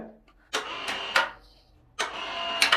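Mollar CIW20750 Gen 3 cordless impact wrench running in bursts, two close rattling hammer runs followed by a pause and a third burst, loud and near with no talk.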